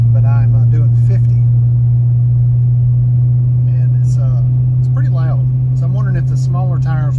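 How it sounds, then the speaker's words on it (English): A Ford Excursion cruises at about 50 mph in fourth gear, a loud steady low engine and road drone that fills the cabin while someone talks over it. "Right now between 45 and 57 in fourth gear, it's pretty loud."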